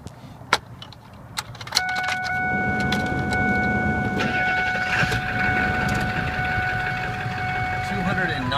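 A 1999 Ford F350 diesel 4x4 crew cab truck cranks after a few clicks, then settles into a steady, loud idle with a constant whine running over it, with faint voices in the background.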